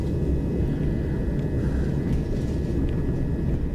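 A train pulls out of Hilsea station on a service toward East Croydon, giving a steady, loud low rumble that holds evenly throughout with no talk.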